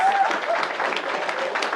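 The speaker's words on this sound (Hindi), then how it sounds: "एक बार प्राची के लिए ताली बजाओ" Applause from a comedy audience for a contestant who answered correctly, dense and steady for the whole stretch, with voices faintly mixed in.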